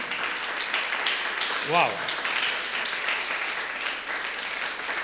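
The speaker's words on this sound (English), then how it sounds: "Can we give a thunderous round of applause to this gentleman?" A talk audience gives a sustained round of applause, a dense, even wash of clapping that carries on beneath a voice exclaiming briefly.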